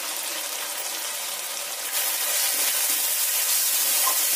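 Ginger and spice paste for chicken curry sizzles steadily as it fries in oil, a continuous close hiss that grows a little louder partway through, with no voices.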